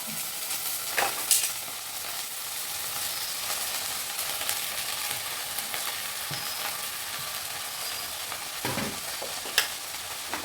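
Chopped leaves tossed into onions frying for thoran, giving a soft continuous sizzle with occasional stirring scrapes and light clicks, quiet and close.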